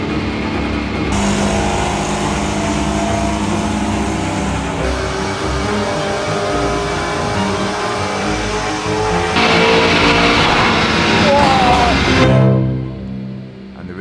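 A Lamborghini Urus on a dyno run revs hard and loud through climbing gears in a sustained, steady engine roar, then cuts off sharply near the end as the pull finishes.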